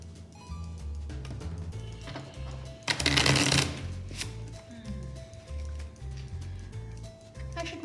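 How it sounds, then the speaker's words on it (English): Playing cards, reproductions of World War II spotter cards, are shuffled during a cribbage game: a short, dense riffling burst in the middle, set against a steady tonal background. "putting the cards on the bottom and doing some shuffling"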